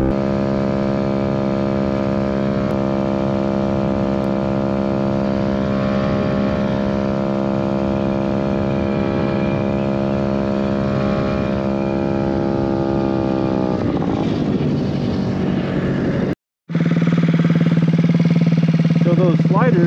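A GY6 scooter engine with CVT sliders and a larger variator holds a loud, steady high-rev drone, then the revs drop and waver. After a brief cutout, a lower, rougher engine note follows.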